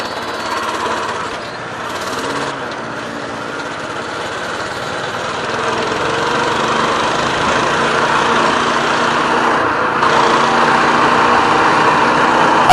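Minibike engine held at full throttle, a loud, raw, high-revving buzz that runs nonstop and swells slightly louder midway, with no speech over it.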